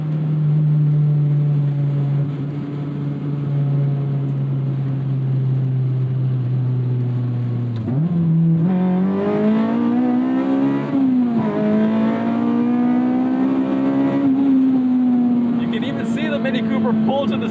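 A K20A-swapped Acura Integra LS engine pulls hard from inside the moving car, its steady drone dropping at a gear change and then climbing again in pitch under load.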